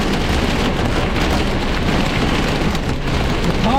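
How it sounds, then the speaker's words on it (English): Severe thunderstorm in Iowa County, Wisconsin, with heavy rain and hail pounding a parked car, a dense, loud, unbroken roar of impacts on the roof. "We got like 40 size hail"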